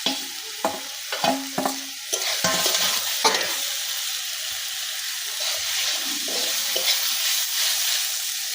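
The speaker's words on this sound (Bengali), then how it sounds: "এখন আমি কচুর ফুলগুলো দিয়ে দিব।" Wild taro flowers dropped into frying masala in a pan, a few sharp knocks and clatters of a spoon on the pan at first, then a loud continuous close sizzle with occasional stirring scrapes.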